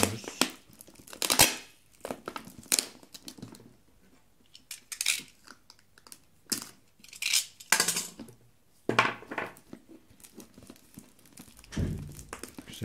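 Adhesive tape is wrapped and pressed around a balloon for a homework model of a lung, giving irregular crinkling, tearing and thumping bursts close by, separated by short quiet gaps.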